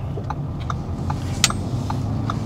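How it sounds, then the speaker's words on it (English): A car engine labours in first gear at low speed during a driving lesson, a steady low drone with faint intermittent ticks over it. "my car actually need the second gear. It starts making some noise"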